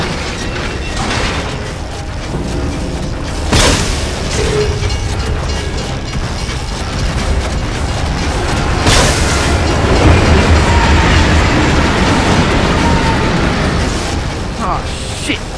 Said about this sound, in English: It's a bloody train coming the other way!